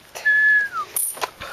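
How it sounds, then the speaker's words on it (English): Nerf foam darts flying through the air make a brief, thin, high whistle that holds its pitch and then slides down, followed by a few soft clicks. "those darts actually whistle as they fly through the air"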